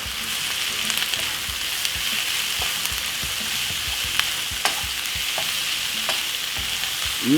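Prawns and king prawns sizzle with onion in a hot pan for Chinese fried rice, a steady close frying hiss punctuated by soft stirring knocks and clicks throughout.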